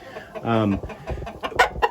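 Chickens in a barn pen cluck close by, with a drawn-out squawk early on followed by shorter, sharper clucks, while a voice speaks over them.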